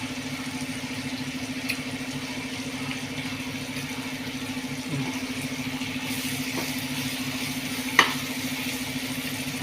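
Brinjal sautéing in a pan, giving a continuous even sizzle with a faint low hum beneath and an occasional light clink, no one speaking.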